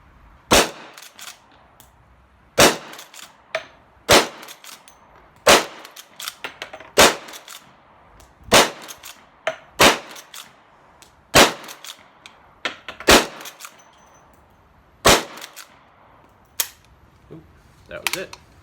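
A lever-action rifle fires .38 Special rounds downrange, about ten loud sharp cracks at irregular intervals of one to two seconds, with metallic lever clacks between shots.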